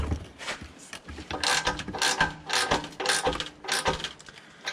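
A 1/2-inch drive ratchet tightens bolts on a BudBuilt LC200 slider in rapid, repeated clicking strokes, close and steady with metallic ratcheting bursts and no talk.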